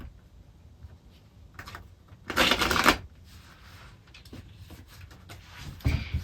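Tarot cards being shuffled at a reading table: one loud, dense riffle burst lasting under a second, framed by softer handling rustles and a final brief flick of cards, with no talking.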